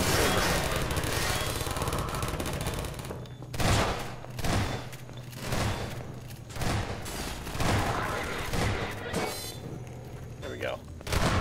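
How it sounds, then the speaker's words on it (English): A turret in Half-Life 2 co-op fires rapid bursts of gunshots in repeated volleys, loud and close, while players shout over the gunfire. "Shoot him, turret!"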